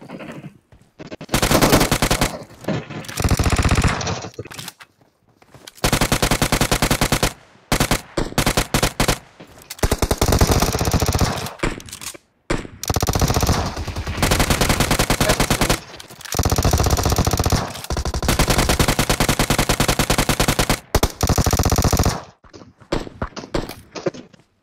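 Rapid automatic gunfire from the PUBG video game, loud and close, comes in long repeated bursts separated by brief silent gaps, with a few scattered single shots near the end.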